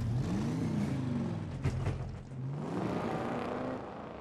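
A growling car engine from the XCOM: Chimera Squad video game rumbles loud and steady for about four seconds, its pitch sweeping up and down like revving, with a brief knock midway.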